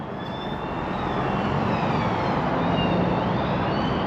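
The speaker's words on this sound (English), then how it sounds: "Is that a police car?" A police car siren wailing as it passes at speed near a motorway, rising and falling tones over loud, steady road and engine noise, with no talk.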